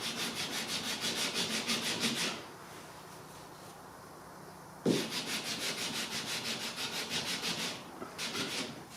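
Hand sanding of a Ford ZF Fairlane body panel, worked up to a masking tape edge: repeated rhythmic back-and-forth abrasive strokes, close and steady, pausing briefly midway before resuming.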